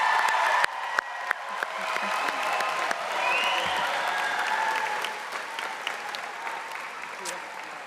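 Sustained applause from a large crowd honoring graduating students at Salisbury University's spring commencement graduate ceremony, a dense steady wash of clapping with occasional sharper claps and cheers, holding throughout before gradually easing.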